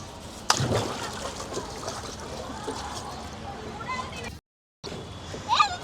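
Water splashes and trickles as ducks are bathed outdoors at a new duck house, with light rain starting. There is a sharp splash near the start, then steady pouring and sloshing, and voices talk over it.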